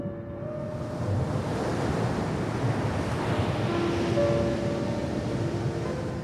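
Ocean surf rolling in with a steady, broad wash of breaking waves and wind, constant and moderately loud, with no voices.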